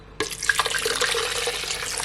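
Water from a kettle poured into a blender, a short steady splashing stream that starts abruptly and runs on evenly, close and fairly loud, with no talk.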